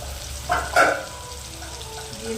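Kohlrabi, tomato and ginger fry in hot oil with a soft, steady sizzle, broken by two brief louder stirring scrapes near the start, and no talking.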